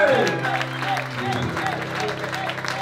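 An audience at a charity benefit auction breaks into applause, a dense, sustained clatter of many hands with voices calling out over it near the start.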